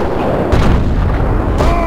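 Sniper rifle fire from the video game Sniper Elite: a loud, booming shot lands about halfway through, with another at the end, over a dense rumbling background of in-game noise.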